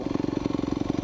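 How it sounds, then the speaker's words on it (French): Motorcycle engine idling with a steady, rapid pulsing putter, close and fairly loud, running throughout with no shutdown audible. "Je vais éteindre ma moto pour parler."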